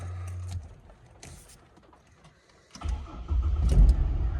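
Ford Falcon BF XR6 with the Barra engine, which has a leaking thermostat housing: a short starter crank, then the engine catches and settles into a low, close idle.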